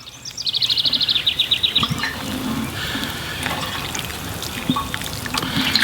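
Water pours from a hose or can onto freshly planted Sungold tomato transplants in a vegetable garden, a steady close trickle and splatter, with bird chirps nearby and no talk.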